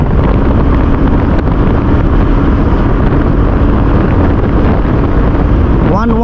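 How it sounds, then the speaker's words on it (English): A 2021 Royal Enfield Classic 350 BS6 motorcycle runs flat out at about 100 km/h in third gear, a loud, steady engine drone heavily buffeted by wind rush, with a brief voice at the very end. "Royal Enfield Classic 350 doing 100 kilometers per hour in third gear."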